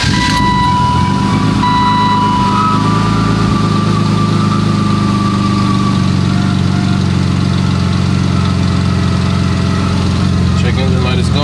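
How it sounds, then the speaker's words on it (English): A car engine runs at a steady idle just after starting, following a scan that cleared its misfire codes; the loud, continuous low rumble holds throughout with faint beeps early on and some talk under it. "So I'm gonna start it now to see"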